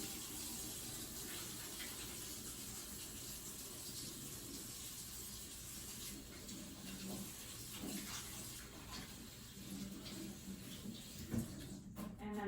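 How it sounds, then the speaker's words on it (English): Hands washed at a sink under a running tap, a steady faint hiss of flowing water with soft splashy shifts as the hands move through the stream. "I'm gonna wash my hands."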